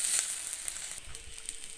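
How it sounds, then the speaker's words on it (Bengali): Tomato bhaji sizzling and frying in oil in a pan with chopped coriander leaves, a steady close bright crackle with soft scraping stirs near the end. "এখন ভালোভাবে নেড়ে চেড়ে ভাজিটা তুলে নেব।"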